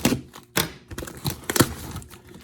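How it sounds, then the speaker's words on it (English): An X-Acto knife slices through a cardboard box with scratchy, uneven tearing and scraping strokes and a few louder rips, close and fairly quiet, with no voices. "Actually here I have an X-Acto knife that'll work. Let's go and cut it open"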